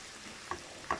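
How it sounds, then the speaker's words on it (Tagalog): Corned beef stirred and fried with onions in a pan, a soft low sizzle broken by two distinct scraping strokes of the spoon, close and fairly quiet, with no voices. "At i-mix natin guys yung corned beef sa sibuyas."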